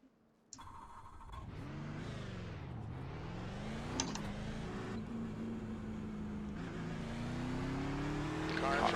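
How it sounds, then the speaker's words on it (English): A NASCAR race car engine in a video game refires with a sharp start, then revs up and down in sweeping pitch changes before holding a rising, loud drone. "Get the engine refired here shortly."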